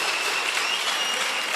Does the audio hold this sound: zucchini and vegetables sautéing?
no